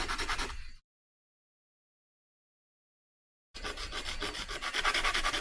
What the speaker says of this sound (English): I knew I'd finally have a video where people were watching me sand something